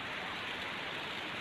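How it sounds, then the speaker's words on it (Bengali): Rain falling, seen from a balcony, a steady dense hiss of drops close and even throughout, with no talk. "তো বৃষ্টি হচ্ছে,"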